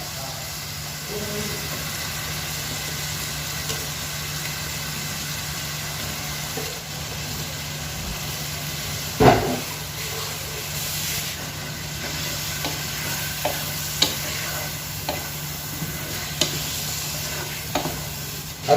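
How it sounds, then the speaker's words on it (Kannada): Mutton going into a pan of masala, with a steady low sizzle of frying and occasional scrapes and clinks of a utensil, including one sharper clatter partway through; no talking. "ಮಟನ್ ಸೇರಿಸ್ತಿದ್ದೇನೆ"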